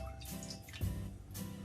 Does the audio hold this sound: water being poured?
yes